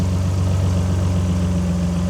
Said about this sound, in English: The V6, made by Mr. Busso